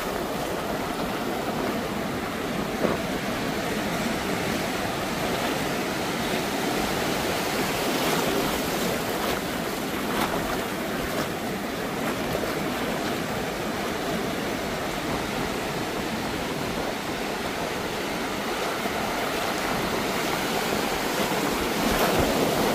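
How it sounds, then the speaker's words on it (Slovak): Rough ocean surf with huge waves breaking on a beach at a resort in Salalah, Oman, a loud continuous roar of crashing water and hiss that holds steady throughout with no voices. "ten oceán je naozaj rozbúrený, že tie vlny sú obrovské"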